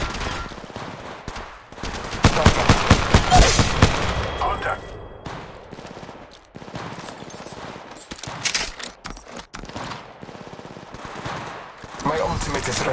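Rapid automatic gunfire in the Apex Legends video game, loud bursts of close shots with sharp cracks, interspersed with game voice lines calling out squads and contact.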